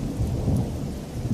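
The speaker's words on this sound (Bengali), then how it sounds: "বৃষ্টি তো এখনো থামার নাম নেয় না।" Thunder rumbles deeply under a heavy downpour of rain, a dense, continuous and loud wash of storm noise with no gaps.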